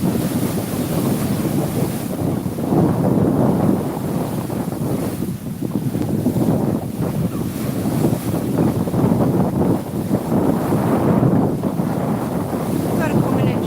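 Waves wash steadily against the Solway coast at high tide, a continuous roar blended with heavy wind buffeting the microphone, loud and unbroken throughout.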